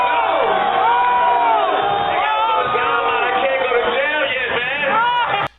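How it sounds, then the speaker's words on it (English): A crowd yelling and jeering over a persistent layer of overlapping voices, loud and sustained, with whoops and bellows rising and falling before cutting off abruptly at the end. "Wait, why are they booing though?"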